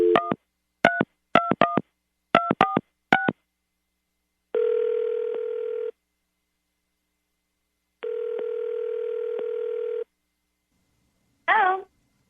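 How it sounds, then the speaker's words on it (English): Touch-tone telephone keypad dialing: three quick bursts of DTMF beeps, then two long ringback tones separated by silence, and a brief voice at the very end, all clear and close. "Kate, you ready to get him on the phone and ask him why he just stopped talking to you?"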